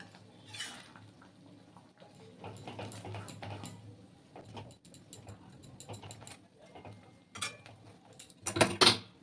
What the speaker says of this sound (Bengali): আমি এইভাবে হাতা দিয়েই ডালে কাটা দিই